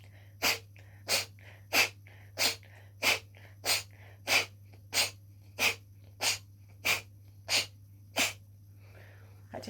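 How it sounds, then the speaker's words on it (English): Kapalabhati breathing, a yogic technique of sharp, forceful exhales through the nose done nostril to nostril, heard as about thirteen evenly spaced, close, loud nasal puffs with a steady low hum beneath. "you can do this breathing technique like Kapalabhati,"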